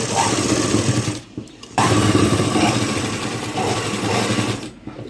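A sewing machine runs steadily and loudly while stitching buttonholes on a blouse, its close mechanical whir broken by one short pause and a brief dip near the end.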